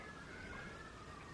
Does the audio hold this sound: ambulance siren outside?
yes